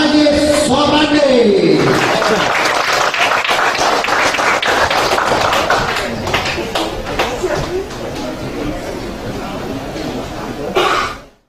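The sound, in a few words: audience applause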